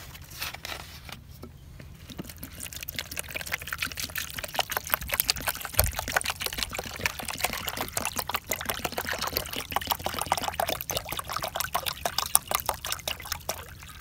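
Water poured from a container onto sifted wood ash to make a natural aphid spray, a steady trickling, splashing pour running close by for most of the stretch with no voices.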